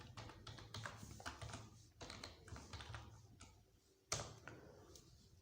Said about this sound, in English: So I can type my own password.